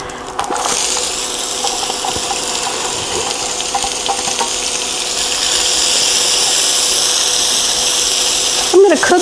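Vegetables sauté in cooking oil in a soup pot, a loud steady hissing sizzle that continues throughout, with a few clinks near the start and end.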